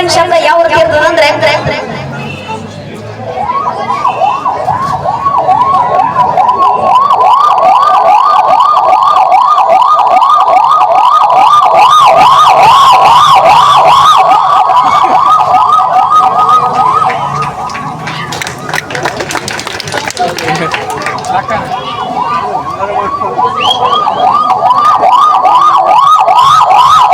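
On stage, a singer vocally imitates a police vehicle siren, producing loud wavering up-and-down wails over a sustained tone, with brief crowd noise breaking in midway before the imitation resumes.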